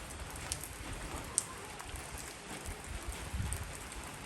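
Light rain drizzles softly outdoors in Thailand, a faint steady patter with scattered drops and a few slightly louder ticks, with no voices.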